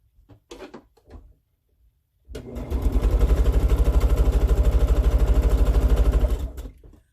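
A sewing machine stitches quilt pieces together in one steady, fast, even whirring run lasting about four seconds, close by, after a few brief handling clicks.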